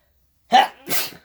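A single sharp sneeze, close and loud, in two quick bursts: a sudden intake then an explosive release, with silence around it.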